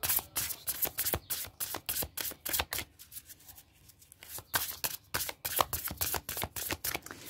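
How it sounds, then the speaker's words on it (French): Egyptian tarot cards shuffled by hand for a three-card draw, a close run of quick riffling bursts with a short lull in the middle. "on va faire un petit tirage à 3 cartes pour voir s'il y a des précisions"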